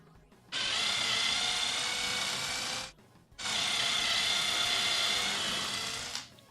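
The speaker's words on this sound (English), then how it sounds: "re-drill some holes for toenailing." A power drill bores holes in wood for a CRT stand, two sustained high whining bursts of about two and a half seconds each, separated by a brief pause, close and loud.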